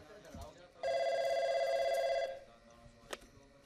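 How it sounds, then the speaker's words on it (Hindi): A telephone bell rings in one sustained, loud trill of about a second and a half, set in a domestic scene from a 2011 Hindi film, with quiet room noise before and after. "ओहो तेरे स्पेशल का फोन आ गया"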